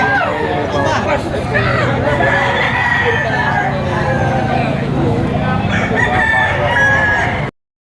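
White Kelso gamefowl roosters crow repeatedly at an outdoor market in Padre Garcia, Batangas, several calls overlapping amid a steady crowd babble and chatter.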